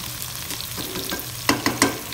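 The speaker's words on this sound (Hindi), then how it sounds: "आप प्याज डालने लगे इसके अंदर, फ्राई करने लगे प्याज" Onions fry in a pan for an okra (bhindi) dish, giving a soft, continuous sizzle with a few clinks of stirring near the end.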